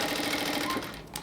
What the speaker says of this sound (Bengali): আমি কিন্তু এই নিচে যে সেলাইটা দিচ্ছি, যেই দিকে কাপড়টা নিচ্ছি সেই কাপড়ের উপরেই সেলাইটা দিচ্ছি পুরোটা।